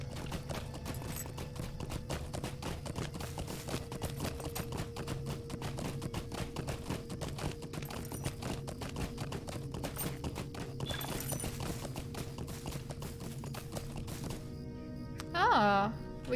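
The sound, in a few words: horse hooves clip-clopping in video game LOTRO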